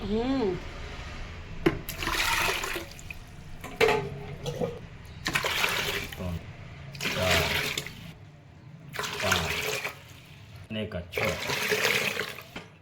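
Water is poured from a bucket into plant pots, splashing and pouring in several short bursts separated by brief pauses, with a voice speaking in between.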